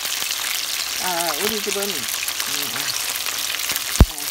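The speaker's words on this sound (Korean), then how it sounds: "치킨을 지금 튀기고 있어요." Steady crackling sizzle of chicken deep-frying in hot oil, continuous throughout, with a person speaking briefly over it and a sharp knock near the end.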